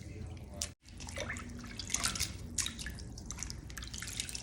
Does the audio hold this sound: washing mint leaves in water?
yes